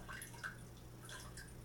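Water drains and drips from a freshly cracked coconut, giving a faint, quiet run of small drips and trickles over a steady low hum.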